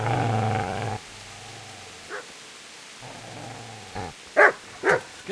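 A hostile dog in the medieval game Kingdom Come: Deliverance growls low and steady, then lets out a few short, loud barks and yips near the end, close and unaccompanied by talk.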